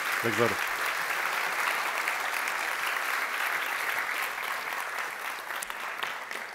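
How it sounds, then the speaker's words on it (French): Audience at a science-communication contest final gives the orchestra sustained applause, a dense steady wash of clapping from the hall lasting throughout, with a brief low voice at the start. "on applaudit l'orchestre"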